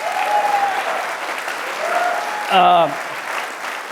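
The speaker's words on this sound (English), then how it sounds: "How about a round of applause for Ron, Ambassador?" Crowd at a Republican political event in Michigan applauds the party chairman, steady dense clapping with a voice rising over it briefly near the end.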